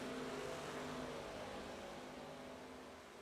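Race cars lap Daytona in an ARCA Super Series event on the iRacing sim, their engines blending into one steady, droning roar that holds constant and fades slightly toward the end, with no voices over it.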